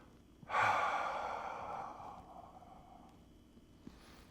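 Slow, deep breathing during a hooklying exercise on the floor, one long audible exhale that starts strong and fades gradually over several seconds, close and quiet with no talk.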